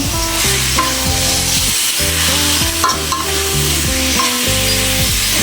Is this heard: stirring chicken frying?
yes